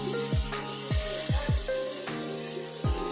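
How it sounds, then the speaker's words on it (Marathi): Mandeli fish coated in semolina fry in hot oil with a steady, close sizzling hiss, while a few falling tonal sweeps sound over it. "आता आपण आहे ना मांदेली फ्राय करून घेऊया तेल आपलं चांगलं गरम झालेलं आहे"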